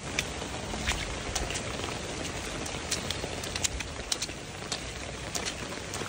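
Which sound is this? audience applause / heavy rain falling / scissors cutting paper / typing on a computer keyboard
heavy rain falling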